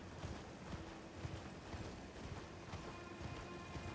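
Horse hooves galloping at a steady run in the video game Elden Ring, a continuous, fairly loud clip-clop rhythm over a dense background of game ambience, with no talking.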